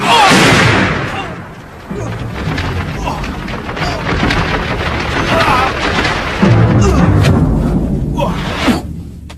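A loud, deep boom bursts out at the start, followed by heavy rumbling and crackling debris that rolls on and swells again before fading.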